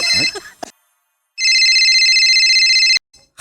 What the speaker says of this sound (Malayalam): വീണ്ടും ഫോൺ.